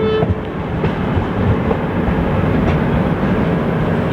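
A passenger train pulls into Belgaum station with a loud, steady rumble of rolling wheels and carriages heard from onboard, the platform approaching on the right.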